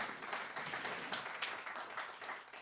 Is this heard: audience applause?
yes